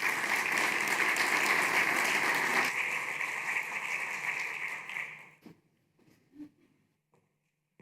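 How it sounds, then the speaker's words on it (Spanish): Applause at a construction industry conference welcomes a speaker. It is loud and dense at first, then thins out over several seconds and fades, leaving a few scattered sounds and a brief murmur. "Un aplauso para él, por favor."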